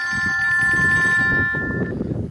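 A mobile phone rings outdoors, a loud tonal electronic ringtone sounding for about a second and a half before cutting off into background rustle.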